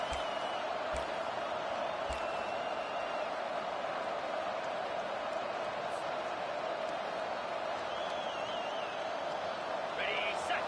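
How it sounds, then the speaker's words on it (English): Steady roar of a large college football stadium crowd in a video game, loud and continuous throughout, with occasional whistles and faint thuds breaking through the wash of noise. "It is getting loud as this crowd tries to help its defense."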